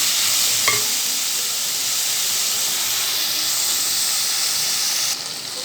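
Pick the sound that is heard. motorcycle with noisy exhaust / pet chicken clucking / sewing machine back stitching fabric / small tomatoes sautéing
small tomatoes sautéing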